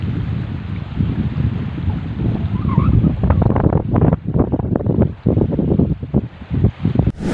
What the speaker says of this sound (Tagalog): Uwi na tayo at humahangin. Tawid na tayo, humahangin na.